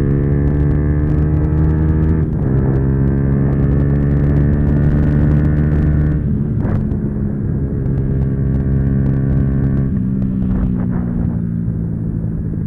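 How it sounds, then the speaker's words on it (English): Yamaha YZF R125 motorcycle engine held at high revs, a loud steady droning whine with brief dips and recoveries as it bounces off the rev limiter, recorded onboard. "Rev limiter."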